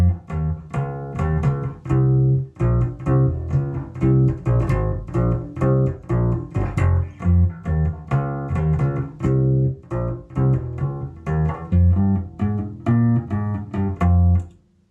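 Bass guitar plays the verse line of a track at a slow tempo, a close, warm run of plucked notes repeating in a steady groove, solo with no voice over it.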